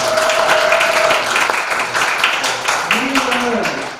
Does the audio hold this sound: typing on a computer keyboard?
no